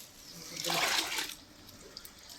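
Water splashes as it is poured onto the ground outdoors during a family Sankranti festival gathering, a short rushing burst that rises and fades within about a second, with faint voices around it.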